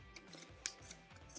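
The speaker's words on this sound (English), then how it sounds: "you can take your scissors and you can cut off a little bit of the excess" Scissors snip through recycled T-shirt fabric being trimmed for a dog toy, a few soft, sharp clicks spaced irregularly over a steady background hiss.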